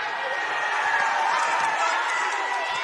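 Steady basketball arena crowd noise at a college game between PC and Pacific, a continuous dense murmur of many voices with faint cheering, holding an even level throughout.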